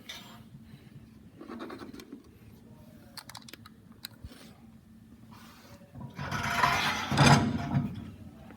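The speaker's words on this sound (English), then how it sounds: "we need to press this stock trunnion out. So I'll show you guys with the vise first." An LS or LT engine's stock rocker arm trunnion is pressed out in a bench vise: scattered close mechanical clicks and scrapes, then a louder grinding, creaking stretch near the end.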